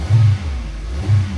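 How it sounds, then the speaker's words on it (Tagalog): A car engine with a check-engine fault and a non-working RPM gauge revs twice in low, rumbling surges, close and loud, settling to idle between. "Naririnig niya yung makina. Nagre-revolution siya"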